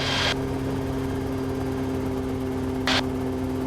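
A small plane's aircraft engine holds steady at flight idle, 100% RPM, as a constant, droning hum with a steady tone, broken by two brief hissing bursts at the start and near the end.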